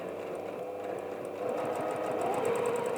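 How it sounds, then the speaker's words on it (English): Sewing machine stitching a bulky denim wallet through four layers of fabric, running a back stitch over the original seam; a steady close whirring hum that grows slightly louder partway through. "I'm just going to go over the original sew line again and just do a back stitch just to tack it in place."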